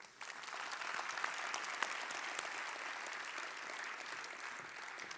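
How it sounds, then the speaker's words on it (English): An audience at a business summit applauds the Assemblyman in a dense, steady wash of clapping that stays even for about five seconds, heard from some distance. "Can we give another round of applause for the Assemblyman?"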